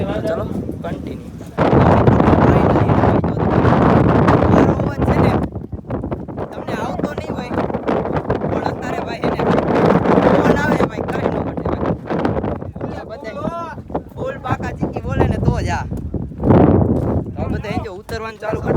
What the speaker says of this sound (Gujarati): ઉતરવાનું ચાલુ કરી દીધું પવન એને થોડોક ધીમો પડ્યો હોય